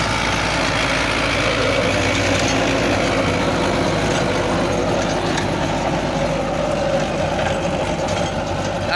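An Arjun 555 tractor, a 50-horsepower machine held at about 1600 RPM while driving a 7-foot rotavator, runs with a steady, loud, continuous engine drone and mechanical rumble that never lets up, with no voices.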